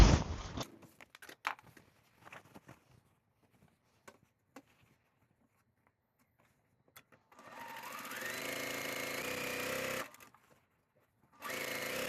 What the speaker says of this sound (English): I'm just going to sew it all the way down.